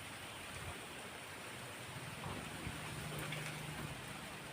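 Steady, faint hiss of rain falling continuously, a soft even wash of noise with no voices.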